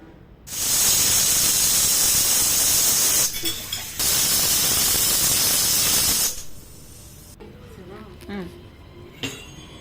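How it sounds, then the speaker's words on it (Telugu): A pressure cooker full of potato carrot curry lets out two long, loud bursts of hissing steam whistle with a brief gap between them, then drops to quieter kitchen clinks and faint sounds. "మనం కుక్కర్లో ఒక 5-6 విజిల్స్ అయితే రానివ్వాలి"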